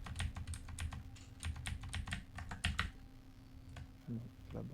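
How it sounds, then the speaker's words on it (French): Rapid clacking keystrokes on a mechanical computer keyboard with large keys, a dense run of close, loud taps that thins out toward the end over a low steady hum, during a CS:GO gaming session. "J'espère que tout le monde profite bien des grosses touches de mon clavier mécanique là."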